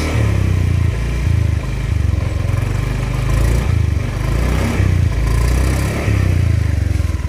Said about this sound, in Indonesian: suara khasnya kayak gini nih letek letek letek kayak gitu